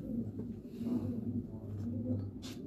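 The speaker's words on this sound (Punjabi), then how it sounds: "ਵਾਕਈ ਇਹ ਮਿੱਸਾ ਕਬੂਤਰ ਆ" Missa pigeons coo in low, rolling throaty calls, a near-continuous murmur of overlapping coos close by, steady and moderate with a brief rustle near the end.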